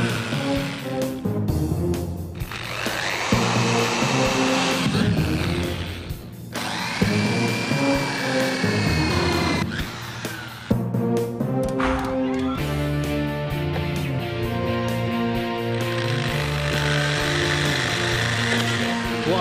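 A power tool cuts holes in a motorcycle primary chain oil bath for the shafts, grinding and whirring in bursts with short pauses, loud and close, with some faint talk underneath.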